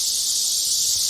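Cicadas singing in summer, a dense continuous high-pitched buzzing chorus, loud and unbroken throughout.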